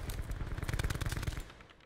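Rapid automatic gunfire from Black Ops 4 multiplayer, a dense loud burst of rattling shots that rises and then trails off near the end.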